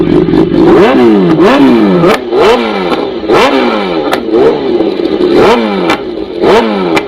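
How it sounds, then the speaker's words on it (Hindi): A BMW S1000 RR sport bike with a full exhaust system fires up and revs hard and loud, with repeated rising and falling throttle blips close by and no talking. "तो ये स्टार्ट हो गई महंगी वाली बाइक"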